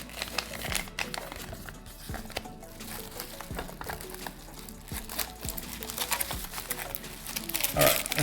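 A paper envelope is folded close up, with soft crinkling, creasing and rustling in short, irregular bursts.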